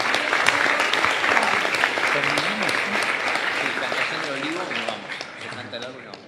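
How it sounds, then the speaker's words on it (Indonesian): Dense, loud audience applause fills the whole stretch, steady then easing slightly toward the end, with voices talking underneath the clapping. "Tepuk tangan."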